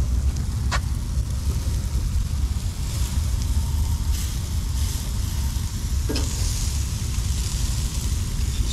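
Tri-tip sizzles on an outdoor barbecue grill, a loud dense crackling hiss that runs steadily throughout with no talking.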